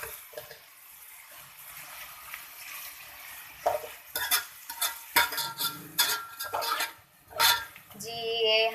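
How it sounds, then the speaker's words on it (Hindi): Sliced onions cooking in oil in a pan for bitter gourd sabzi, stirred with a utensil until light golden; soft background sizzle with a series of scraping and clinking stirring strokes, louder and busier in the second half. "ये अब हम इसको पकाएंगे, लाइट गोल्डन कलर का कर लेंगे"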